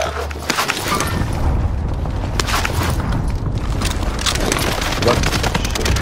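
Heavy, continuous gunfire and booming blasts fill a battle royale video game firefight, loud and dense throughout with overlapping shots, with a player's voice faintly under the barrage.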